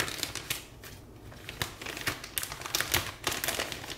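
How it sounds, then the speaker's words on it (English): A plastic bag crinkles and rustles as a potted rootless Cattleya orchid is slipped inside, close and crisp, with irregular bursts of crackling handling noise throughout. "I'm going to put the entire pot inside a plastic bag."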